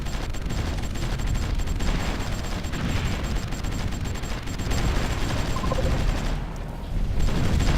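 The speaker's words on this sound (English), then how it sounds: "and there's massive explosions" Dense, continuous rumbling gunfire and explosions as tanks are destroyed in the strategy game Supreme Ruler Ultimate, a loud unbroken barrage of crackling blasts and booms.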